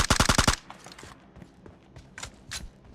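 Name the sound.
gunfire in PUBG Mobile video game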